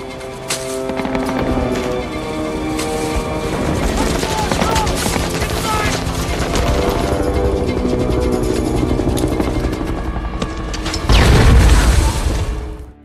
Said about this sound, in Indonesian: Ledakan ranjau itu menarik perhatian beberapa orang pasukan Brand.